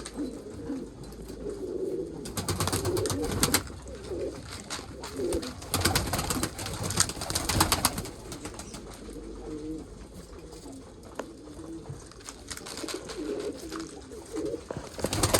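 Female pigeons cooing in a loft, steady low rolling coos from several birds overlapping throughout, with bursts of wing flutter and scuffling, fairly close and moderately loud.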